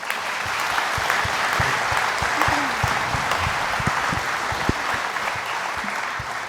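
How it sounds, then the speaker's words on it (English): An audience gathered in a room applauds the panel, steady dense clapping with a few sharper individual claps standing out, sustained at even loudness throughout. "Can we have a round of applause for our panel here?"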